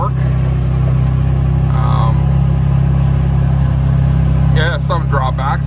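A Can-Am Defender 6x6 utility vehicle's 82-horsepower engine runs with a steady, loud, low hum throughout, and someone talks over it near the end.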